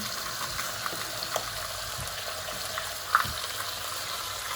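Carp pieces frying in a pan with onion and lemon, a low steady sizzle and bubbling close by, with a few soft clicks and one sharper knock of a utensil against the pan.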